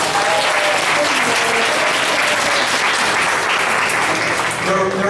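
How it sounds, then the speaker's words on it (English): A crowd at a school mural dedication gives a loud, dense round of applause, sustained and even throughout, with faint voices mixed in underneath. "Go ahead and give them a round of applause."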